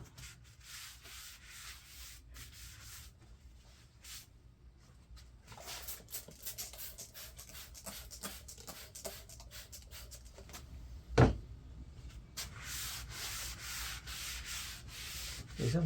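A DeWalt sander fitted with 120 grit sandpaper works over an epoxy live edge shelf, giving a steady, fairly quiet rubbing hum that builds in the second half, with a brief knock near the end.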